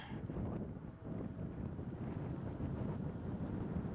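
Steady gusty wind buffets the microphone outdoors at a disc golf tournament, a continuous low roar rising and falling slightly with no talk over it.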